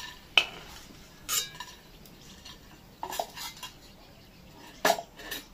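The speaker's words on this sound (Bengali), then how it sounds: "আমি যখন প্লেটে তুলবো আওয়াজটা শুনবে শুধু কতটা মুচমুচে হয়েছে" A crispy fried snack of rice flour and semolina is lifted onto a plate, giving a few sharp clinks and scrapes of utensil on plate, spaced apart over a faint background hiss.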